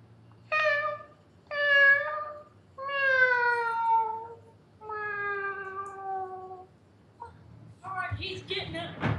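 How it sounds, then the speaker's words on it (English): A cat meowing in the video game Gmod: four drawn-out, loud meows in a row with short pauses between them, followed by a burst of noisier sound at the end. "you should add a kitty sound"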